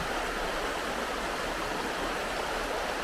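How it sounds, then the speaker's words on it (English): A fast-flowing river swollen after heavy rain rushes with a steady, dense roar that stays close and even throughout, with no voices. "the river is flowing quite fast"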